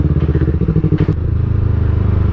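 A Yamaha R25 motorcycle riding along close up, its engine droning steadily with rhythmic pulsing and a brief clatter partway through, no talk over it.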